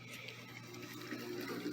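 Water poured into a garden bed to level the soil for an understory planting, a steady, soft wash of running and splashing water heard close and continuous, with no talking.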